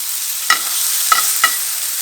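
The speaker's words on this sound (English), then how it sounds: "when you lay a steak down in the pan, lay it down away from you. Ooh, and that sound, that's exactly what you want to hear." A steak sears in a hot cast iron pan with olive oil, giving a steady, close, bright sizzle broken by a few small pops.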